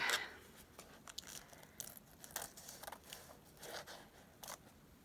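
Scissors trimming paper napkin tags: several quick snips and crisp paper rustles in a quiet room, irregularly spaced, close by and fairly soft.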